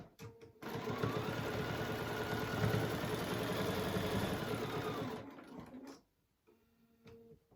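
A sewing machine with a quarter-inch foot runs steadily for about five seconds while stitching a crochet needle case, a loud, even mechanical whir that stops abruptly and leaves faint ticking behind.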